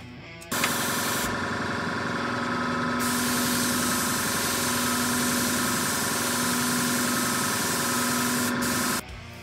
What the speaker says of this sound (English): Just take your airbrush and some white ink and spray it onto the light source